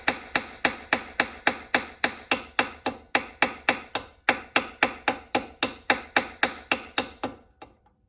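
A hammer taps steadily on a Dinky Jaguar toy to flare out a hole, with sharp metallic blows about twice a second that run on evenly for several seconds and then stop.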